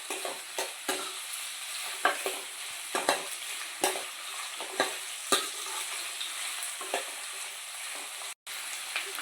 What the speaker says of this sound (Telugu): ఇప్పుడు మనం అందులో ఆనియన్స్ వేసుకుంటున్నాం.